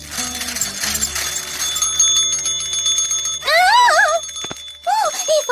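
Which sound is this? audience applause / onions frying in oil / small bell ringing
small bell ringing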